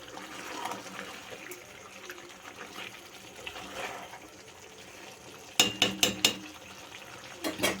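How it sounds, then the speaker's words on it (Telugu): Half a bowl of water trickles and splashes softly into a pot of chicken curry, followed by a few sharper clinks and splashes near the end. "ఇప్పుడు వాటర్ నేనైతే 1/2 బౌల్ వాటర్ యాడ్ చేస్తున్నాను"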